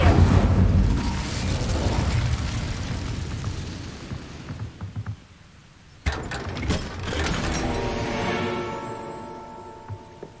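A fire spell cast in Hogwarts Legacy bursts out as a loud, whooshing roar that fades, then after a sharp cut a second crackling, ringing burst swells again.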